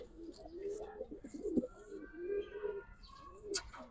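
Pigeons, including an old-bloodline jhak gola breed, coo softly in a cage with repeated low rolling calls, faint and close, with a few light chirps near the end.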